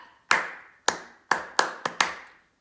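Six crisp hand claps of body percussion practice, close and loud, spaced irregularly with a quick double clap near the end, each fading briefly into a quiet room with no voices.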